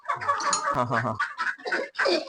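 Black chickens on a farm that also keeps ducks cluck busily and continuously at close range, with overlapping calls throughout.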